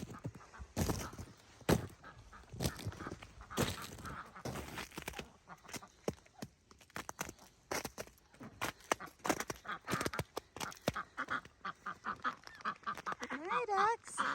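Ducks quack and honk on a snowy homestead during an ice storm, calls coming in scattered bursts near the listener with a clearer run of honks near the end, while a person talks and crunches around them.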